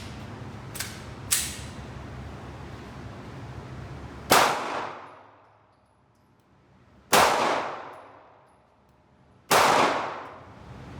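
Smith & Wesson M&P 2.0 3.6-inch pistol shots at an outdoor range, two quick faint pops followed by three loud separate cracks spaced a few seconds apart, each ringing out and decaying.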